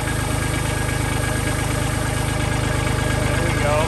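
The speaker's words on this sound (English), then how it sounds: "See our AC going there. Oh, my clutch is slipping." A Kubota tractor engine runs at a steady idle with a rapid, even pulsing throb, its air conditioning clutch slipping and adding a faint rising whine near the end.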